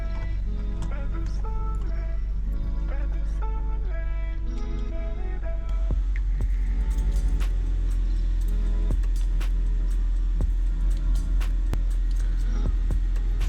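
A battery-powered portable tire air compressor running steadily with a low, constant droning hum, joined by a car engine idling, with a few clicks and a voice in the background.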